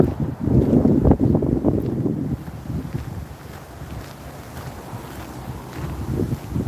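Gusts of cold wind buffet the microphone, a close, rumbling low roar that is strongest early on, then eases into a steadier rushing hiss.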